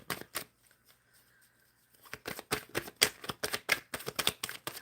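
Tarot cards are shuffled close up, with a quiet start and then a quick run of sharp, rhythmic riffling snaps.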